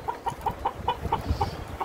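Young Australorp hens and roosters on a farm give a steady run of short rhythmic clucks, close and fairly loud, with no voices.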